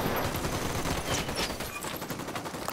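Sniper gunfire in the video game Ghost Recon Wildlands, a dense burst of sharp cracks and rapid shots with rolling echoes, loud and continuous over a short stretch.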